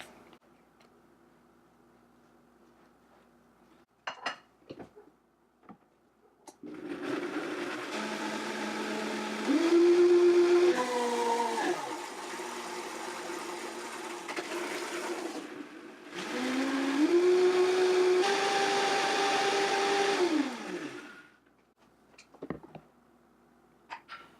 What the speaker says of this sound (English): I'm going to take about half of the greens, put it into the blender